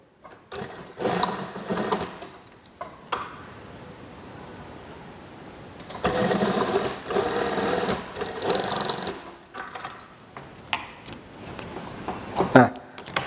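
A sewing machine runs in steady bursts while stitching the seam of a child's half-circle dress, with louder runs at the start and middle and brief pauses between them, close and fairly loud.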